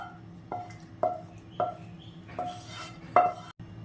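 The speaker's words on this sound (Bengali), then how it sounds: "প্লেটে সার্ভ করে দিলাম।" Black pepper chicken being served onto a plate with a metal spoon that knocks and scrapes against the dish about five times, close and fairly quiet, with no talking.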